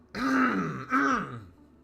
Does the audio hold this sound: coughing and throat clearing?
yes